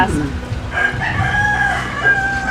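A rooster crows in a drawn-out call amid farmyard noise, with a chicken's clucks and a bit of background chatter.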